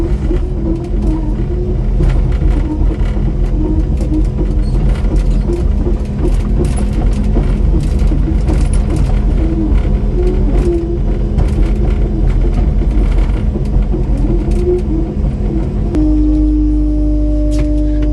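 A Kubota KX080-4 excavator idles cold at low revs, its diesel engine giving a loud, steady, close-up rumble that shifts slightly in tone near the end, with no voices.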